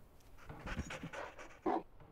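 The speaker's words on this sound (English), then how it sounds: "It is a dog." The dog Wolf in Beyond Good & Evil pants in quick, breathy bursts close up, ending in a short sharp whine-like yelp.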